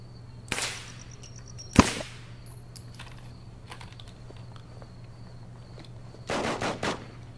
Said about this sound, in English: I'm running in now with my super OP Krug rifle.